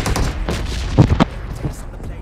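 Bursts of gunfire in the battle royale game PUBG, a few loud close shots clustered near the middle over background game noise, with players talking over the action.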